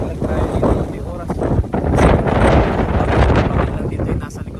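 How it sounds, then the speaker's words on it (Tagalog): Strong wind blusters outdoors at a high, open spot, roaring loudly and steadily across the microphone for the whole stretch with gusty surges, while a person talks beneath it. "Malakas ang hangin."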